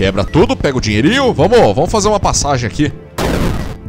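An explosion from a grenade in the video game The Superfluous bursts out loudly near the end, a short noisy blast following steady excited talk.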